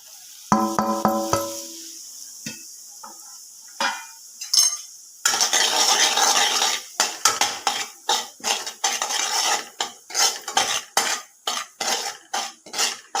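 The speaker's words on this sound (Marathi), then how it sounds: "आता हे परतायला आहे ना हे मसाले सगळे आपण टाकून द्यायचे त्याच्यात मिक्स करून" A metal spoon stirs and scrapes spices in a pan while black val bean curry cooks, with a few ringing clinks first and then rhythmic scraping strokes over a soft sizzle.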